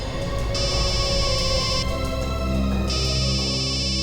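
A phone rings with a steady electronic tone in repeating bursts, loud and continuous, with no voices.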